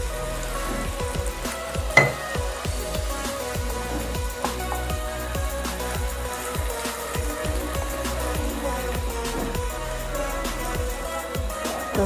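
Leftover cooked rice and peas fry in a pan with a steady, dense crackling sizzle and frequent spatula scrapes and taps, close and continuous without voices.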